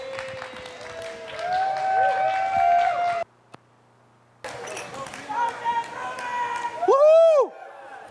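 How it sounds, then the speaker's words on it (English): Applause and cheering greet a celebrity chef introduced at a health and food festival, with high whoops and whistles over the crowd, a sudden brief drop to near silence midway, then more cheering and a loud rising whoop near the end. "Please give us a round of applause."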